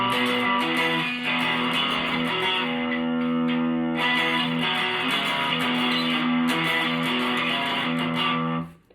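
Electric guitar playing a song with open, unmuted strummed chords, sounding loud and distorted and ringing continuously for the whole stretch, with no voice over it.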